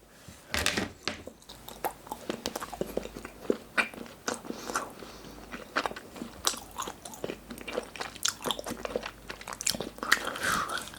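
Crunchy Pepero sticks are bitten and chewed close up. Rapid crisp snaps and crunches repeat throughout, loud and dry, with no talking.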